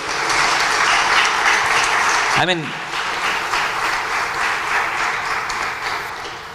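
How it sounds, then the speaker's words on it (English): Sustained audience applause, a broad even roar of clapping that holds steady throughout, with a short spoken interjection partway through. "Can we have a huge round of applause?"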